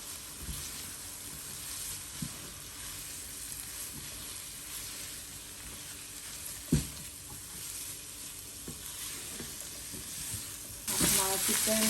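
Boiled chicken seasoned with black pepper and salt fries with garlic in a pan, giving a steady, close sizzle with occasional stirring scrapes and a louder crackle near the end.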